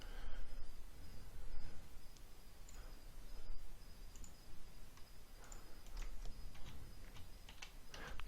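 Computer mouse clicks while saving a web form, a scattered series of small, crisp, faint clicks over a quiet room hum, no speech.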